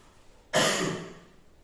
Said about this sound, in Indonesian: saya masih batuk